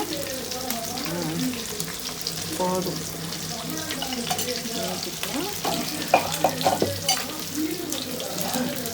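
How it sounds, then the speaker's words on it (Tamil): Sesame oil sizzles and crackles in a pan, heated for tempering a home-style fish curry. The frying is continuous and close, with stirring, splashes of running water and brief speech. "நல்லெண்ணெய் தான் ஊற்றுறேன் தாளிக்க"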